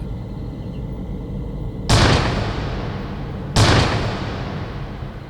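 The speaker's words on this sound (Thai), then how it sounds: "หลังจากเสียงปืนที่ดัง" Two loud, sharp gunshots about two seconds apart, each a sudden blast that fades quickly against a steady low background hum.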